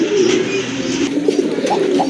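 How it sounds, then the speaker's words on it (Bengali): A pair of Rajgolla pigeons coo steadily at close range, a continuous low, throaty murmur with soft rising notes near the end and no talking. "পুতুলের চেয়েও কিন্তু সুন্দর এক জোড়া রাজগোল্লা কবুতর"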